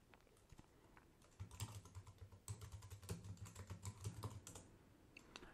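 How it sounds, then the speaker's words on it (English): A password is typed on a computer keyboard during a Heroku command-line login, heard as a close, rapid burst of crisp key clicks in quick irregular rhythm for about three seconds, then a few scattered taps. "I'm going to type my password here"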